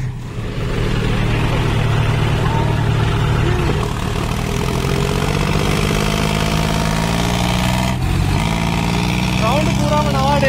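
A John Deere tractor's diesel engine runs nearby during a tug-of-war test, with a steady, heavy low chug while people talk over it.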